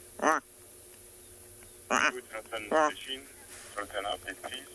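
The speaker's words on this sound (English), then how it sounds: "That's my game drive radio, not part of the call." Crackling squawks and bursts from a safari game drive radio at dusk, several short separate blasts spread over a few seconds, fairly loud against a quiet outdoor background.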